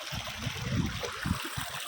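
Water flows past in a roadside stream, a close, low gurgling rush with rhythmic surging pulses over a steady wash.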